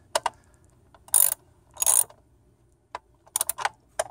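A 10mm ratchet tightening bolts on a 2010 Mitsubishi Lancer during a basic tune-up, giving short bursts of rapid pawl clicking in several separate strokes, close and fairly quiet, with pauses between them.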